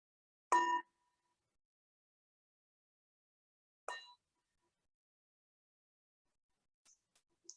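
A meditation bell is struck twice during a guided meditation class, about three seconds apart. Each strike is a bright, quiet metallic ring that fades quickly into silence, followed by a few faint soft clicks.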